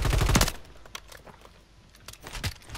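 Machine gun fire in a video game, a close, loud burst of rapid shots at the very start, followed by fainter scattered shots and another short burst near the end.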